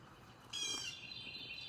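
Birds call outdoors near a chicken coop, a bright chirping burst starting partway through and continuing as a steady, fairly close twittering over a quiet background.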